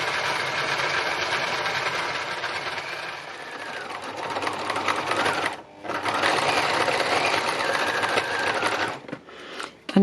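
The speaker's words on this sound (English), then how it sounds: "start sewing and just get it all held in place with my free machine embroidery" Sewing machine running free machine embroidery, a fast steady whirring stitch rhythm with a short pause midway and a stop near the end, close and alone.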